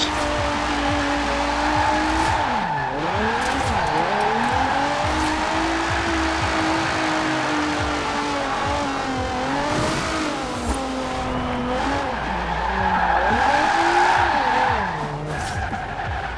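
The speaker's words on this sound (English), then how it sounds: "I am in fourth gear burning tires." A 2003 Nissan 350Z (Fairlady Z) drifting in Forza Horizon 4, engine revving up and down in fourth gear while the tires squeal and spin continuously, loud and close with no talk.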